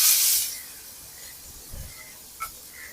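Onion hits hot oil with a pinch of asafoetida, opening with a loud hissing burst that quickly fades to a quiet steady sizzle, with a faint thump and a brief tick later.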